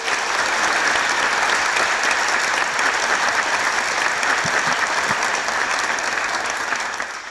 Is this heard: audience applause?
yes